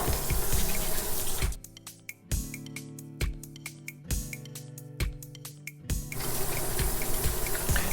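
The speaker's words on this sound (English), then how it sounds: "So let's go wash our hands right now." Water runs from a tap into a sink during handwashing, a steady splashing stream interrupted several times as hands pass under it, producing rhythmic splatters and brief quieter gaps before the full flow resumes.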